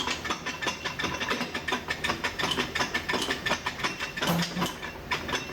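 The input shaft of a TH350 automatic transmission, being built for a 1950 Mercury rat truck, is wiggled into place by hand, making close, continuous metallic clicking and rattling of splines and gears with no talking.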